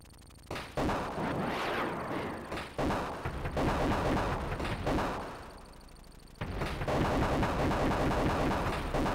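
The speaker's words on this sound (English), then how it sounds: "Desperately trying to shoot the man off the roof" Gunfire in the Sega Genesis helicopter game Desert Strike, a dense run of loud, rapid bursts with brief gaps, one short lull, then heavy firing again, with no talking.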